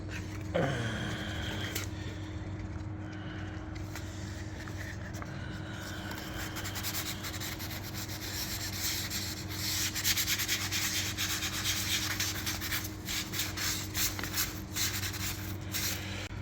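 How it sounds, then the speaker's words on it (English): Continuous rubbing and scraping of wet 1000-grit sandpaper against a Cadillac CT6 painted surface, close up, with steady back-and-forth strokes over a low background hum. "I'm gonna do a little bit of wet sanding now."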